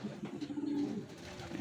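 Racing pigeons coo softly and continuously at a loft, a low warbling hum that carries steadily throughout.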